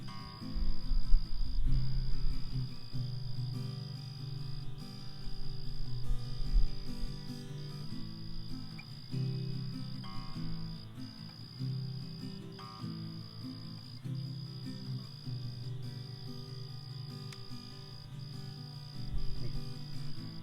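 A steady, pulsing chorus of frog calls trills on and off in rhythm at Garner State Park, Texas, fairly loud and continuous, with faint low background sounds underneath.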